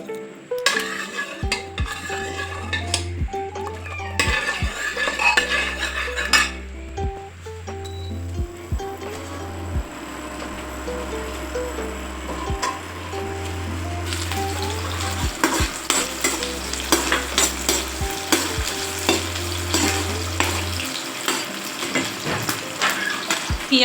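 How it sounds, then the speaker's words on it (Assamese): Bitter gourd frying in a pan with onion, a continuous sizzle broken by repeated scraping stirs and occasional clinks of utensil against the pan, close and fairly loud throughout. "এতিয়া মই তিতা কেৰেলা ভাজিম।"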